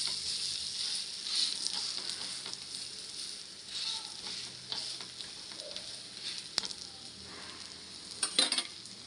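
Ragi adai cooking on a pan after being flipped, a continuous even frying sizzle with occasional light scrapes and clinks, growing busier toward the end.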